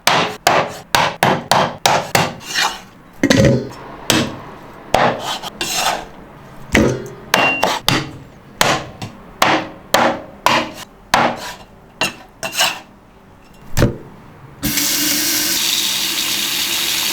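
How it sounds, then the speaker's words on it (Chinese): A cleaver chops pork ribs into small pieces on a board, with roughly thirty loud, sharp, close thuds in an uneven rhythm, then a steady rushing hiss takes over at the end. "把排骨砍成小坨坨哈"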